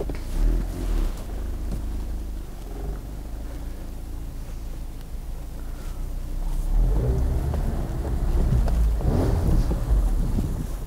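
A Mazda MX-5 RF roadster's engine drones and revs under full throttle as its wheels slip, a broad rumbling roar swelling louder toward the end with wind buffeting the microphone.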